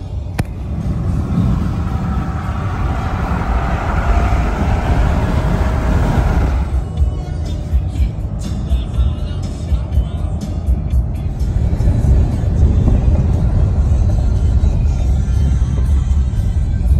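A car driving along a road toward a lake in the Eastern Sierras near Mammoth Lakes, heard from inside: loud, steady low rumble of engine and tyres, continuous with a slight shift in road noise midway.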